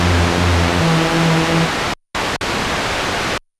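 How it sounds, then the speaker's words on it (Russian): Behringer MS-101 analog synthesizer noise generator putting out loud, steady broadband white noise, with tonal hum at first, cutting out briefly twice before stopping. "Это noise-генератор, который у нас генерирует белый шум."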